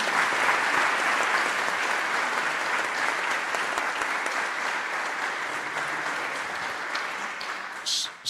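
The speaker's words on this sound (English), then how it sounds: "So if we could just give them a round of applause" A conference audience applauds steadily in a large hall, dense sustained clapping at an even level throughout that tails off slightly at the very end.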